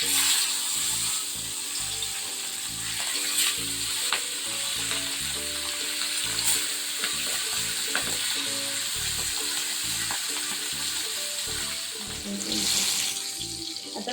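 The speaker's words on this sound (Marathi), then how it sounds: "सुरमई फ्राय करून घेते गॅसवर तवा ठेवलेला आहे छान तेल गरम झालेलं आहे" Hot oil sizzles steadily as kingfish fries on a griddle on a gas stove, with occasional clinks and soft scraping, continuous and fairly close.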